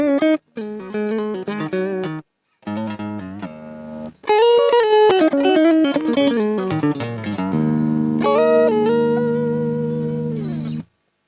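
A clean Washburn electric guitar plays through a Kustom Quad100 DFX amplifier with a 100-watt Celestion speaker, picked notes and chords in short phrases separated by brief pauses, ending on a sustained chord.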